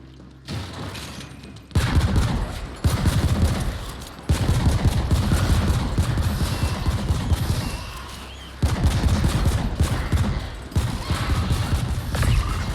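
Rapid gunfire in the sci-fi shooter The Ascent hammers concrete pillars, loud and close, in repeated long bursts separated by short pauses, with impact clatter mixed in and no talking.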